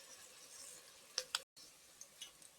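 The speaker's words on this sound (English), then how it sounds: "Look at that sizzling." Saltfish sizzles in a pot as a soft, steady hiss, with a few brief clinks and stirring sounds and a short break in the middle.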